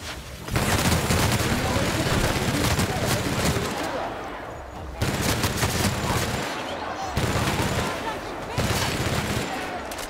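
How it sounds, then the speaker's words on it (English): Machine gun fire in The Outer Worlds, long loud automatic bursts separated by brief pauses, with a voice talking over parts of the shooting. "I want to see how strong is this machine gun."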